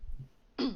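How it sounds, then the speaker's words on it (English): A single short cough, near and fairly loud, bursting out after a stretch of near quiet. "He just coughs."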